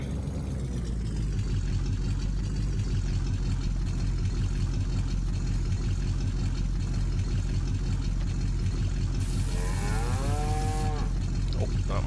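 Dairy cows in the video game Farming Simulator 19 low repeatedly over a steady engine-like drone, with a longer, clearer moo rising near the end.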